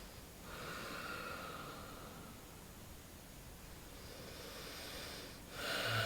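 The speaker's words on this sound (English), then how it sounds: "Take a nice deep breath." A slow, deep inhale through the nose during pranayama breathwork, a soft airy hiss building gradually in a quiet room, followed by a brief louder rush of breath at the end.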